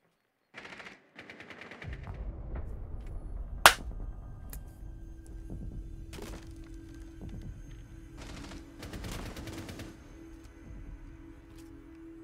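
Gunfire in the video game Rainbow Six Siege: scattered sharp shots and rapid automatic bursts over a low steady hum, with one especially loud close crack, no talk.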